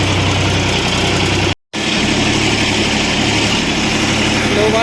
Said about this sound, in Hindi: ट्रैक्टर बिल्कुल बढ़ नहीं रहा है और चक्का बिल्कुल पंखे की तरह घूम रहा है